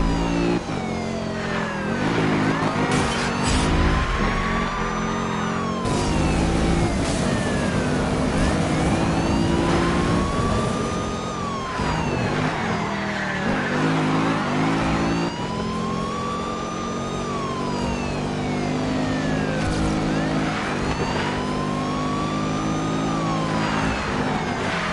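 Car engine in the racing game Need for Speed Payback, revving up and down through repeated gear shifts and swells, loud and continuous across the whole stretch, with no voices over it.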